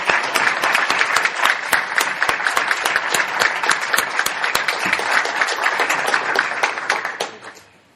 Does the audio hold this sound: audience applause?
yes